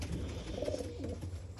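A pigeon in a loft gives a soft, low cooing call, close and moderately faint, with no talk over it.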